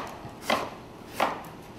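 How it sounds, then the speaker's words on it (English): Two crisp knife strokes thinly slicing seafood soup ingredients on a cutting board, spaced well apart, close and clear with no talk. "So what I'm gonna do, thin slice like this."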